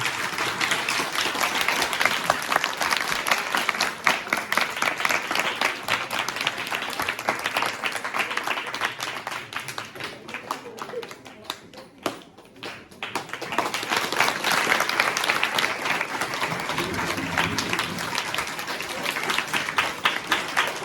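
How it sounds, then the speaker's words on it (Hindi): An audience at an intermediate college farewell program in Simdi, Pauri Garhwal, claps at length to welcome the principal, the applause dipping briefly midway before surging back, with faint talk beneath. "आप लोग तालियों की गड़गड़ाहट से उनका स्वागत करें"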